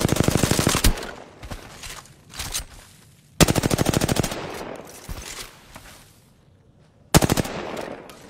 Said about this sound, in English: I shot like between them because I didn't know which one to shoot at.